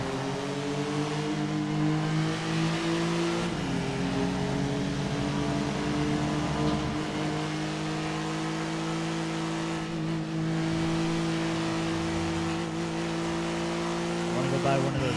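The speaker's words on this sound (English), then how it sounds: "I wish there was a way for me to turn down car engine." Car engine in GTA 5 played as FiveM roleplay, droning with steady harmonic tones and shifting pitch as it revs throughout, loud and continuous beneath a person talking.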